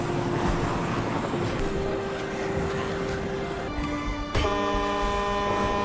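A truck horn in the zombie film Peninsula blares in long sustained tones, the pitch stepping between held notes, loud and continuous over a rumbling background.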